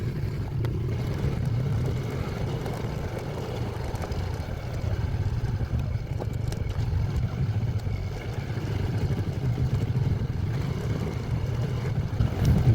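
A steady low engine rumble drones on without a break, like a motorcycle heard while riding, with wind noise and no talking.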